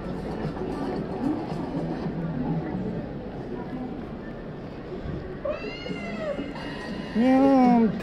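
A cat meows on a Shinjuku street in the evening, several drawn-out, rising-and-falling cries near the end, the last one loudest, heard over a murmur of street noise and nearby talk.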